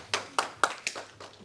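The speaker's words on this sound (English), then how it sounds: "Please, can we clap?" Sparse, hesitant claps from a meeting audience at an APC support forum, about six separate sharp hits spaced irregularly, fairly quiet and without voices.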